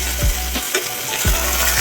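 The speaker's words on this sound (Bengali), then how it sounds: "অলমোস্ট মাছ ভাজা কমপ্লিট।" Pomfret fish pieces shallow-frying in oil in a pan, a steady close sizzle with a few brief scraping or stirring sounds, no talking.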